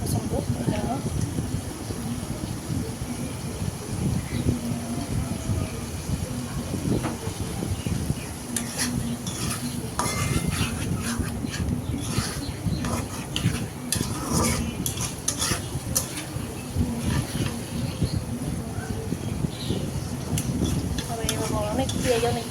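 Potatoes and onions stirred in a pan for fish egg curry, with a steady scraping and light sizzle running continuously at close range, accompanied by faint clinks of a utensil against the pan.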